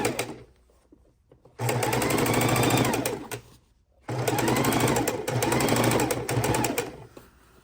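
A sewing machine runs in two long bursts of steady fast stitching on a quilt border seam at 1/4 inch, separated by a short quiet pause, loud and close with no talking.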